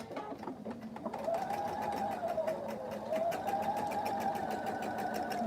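Sewing machine running steadily as it stitches a seam on a tumbling block quilt, a continuous close hum with rapid needle clatter after a brief quieter start.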